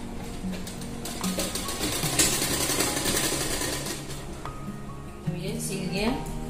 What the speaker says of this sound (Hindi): इधर प्लेन जगह है, इसलिए मैं इधर सिलाई कर रही हूँ